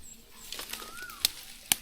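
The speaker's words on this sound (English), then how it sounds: "Hear that bird?" A bird's wings flap in a short outdoor burst, soft fluttering with two sharp clicks and a faint call nearby, in a rural Philippine province yard.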